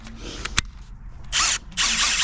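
A Milwaukee M18 cordless hammer drill gives a brief click, then two short bursts of high whirring close by, each about half a second, with a pause between them.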